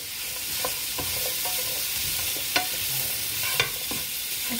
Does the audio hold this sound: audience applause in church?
no